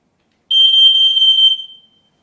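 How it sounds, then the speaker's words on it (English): A single sustained high-pitched electronic beep from a smoke alarm being tested with its button, loud and close, lasting about a second before cutting off into silence. "the smoke alarm will actually let you know by giving out just a beep"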